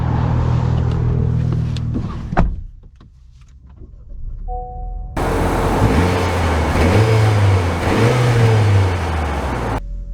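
A 2023 Honda Accord 1.5T idles and hums, then its engine note swells as the car moves off and accelerates, a steady close mid-pitched drone rising and easing with road noise, no voices.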